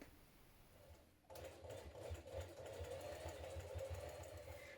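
Electric sewing machine basting a strip onto trouser fabric: after a brief pause it starts up into a fast, steady mechanical whirring and stitching rhythm, close and moderately loud, running on to the end.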